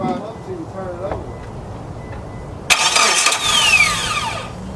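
Third-generation Mitsubishi Eclipse GS engine cranking over, a loud starter whir kicking in partway through and grinding on with a rising whine, with faint talk at the start.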